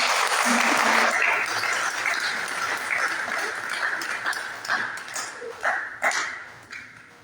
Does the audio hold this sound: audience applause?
yes